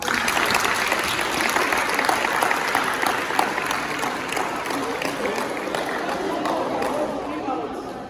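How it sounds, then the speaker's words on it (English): Sustained applause from an audience, steady clapping with some crowd chatter mixed in, tapering slightly toward the end. "Please clap for her."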